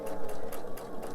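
A sewing machine stitches slowly through a fabric pillow, its needle thumping in an even, rhythmic pulse of about four strokes per second, close by with no voices.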